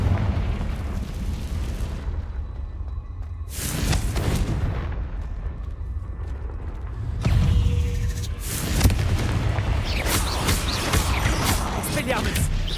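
Confringo blasting spell in Hogwarts Legacy, a loud fiery boom bursting out and rumbling away, followed by further booming impacts amid game sound.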